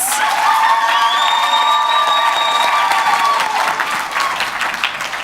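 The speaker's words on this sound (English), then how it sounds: "So can we please give a round of applause?" An audience at a Western Australia community awards ceremony gives a sustained, loud round of applause with cheering and shrill whistles, fading slightly toward the end.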